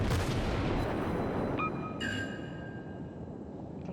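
A warship's broadside booms out in a naval combat game, a heavy blast with a long rolling tail, followed by sustained tonal alarm-like signals layered over the fading rumble, with no talking.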